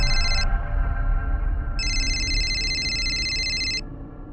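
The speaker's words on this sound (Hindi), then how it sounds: "उनका फोन आया" A telephone rings in two electronic bursts, a short one and then a longer sustained trill, loud and close over a steady low background rumble in a dramatized crime-show scene.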